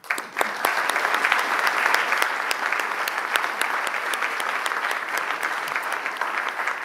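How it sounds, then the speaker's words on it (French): A seated audience at a cycling awards ceremony gives a steady round of applause, dense overlapping handclaps sustained at an even level throughout with no voices rising above it. "j'aimerais vraiment qu'on les applaudisse"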